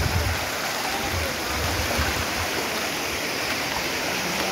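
Loud, steady rushing of a stream running alongside a rough riverside trail, continuous broadband water noise with no voices.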